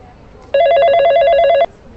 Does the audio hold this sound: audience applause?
no